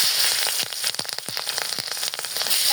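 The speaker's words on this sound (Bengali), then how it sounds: "পেঁয়াজটা একটু ভালো মতো ভেজে নেব" Onion and green chili frying in a pan with cardamom, giving a loud, close, dense sizzle with sharp crackles and pops throughout.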